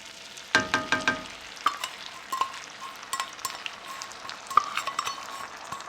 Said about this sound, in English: Once your butter is melted down, go ahead and add in your 1 cup of buffalo sauce.